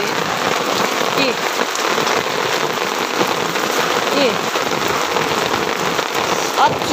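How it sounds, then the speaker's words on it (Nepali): Hail pelts down in a village, a dense, loud, continuous patter of ice pellets striking surfaces nearby, with brief voices underneath the steady downpour. "यहाँ कसरी जाम्दैछ असिना यो डल्लै असिना हो के"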